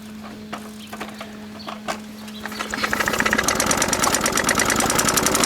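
A VeloSolex 3800 moped's small engine sputters unevenly on choke, then catches and settles into a steady, close, buzzing run.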